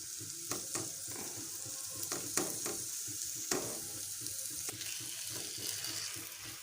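Grated potato and spices get stirred in a frying pan: a soft, continuous sizzle with scattered scrapes and taps of a spoon, fairly quiet and with no voices.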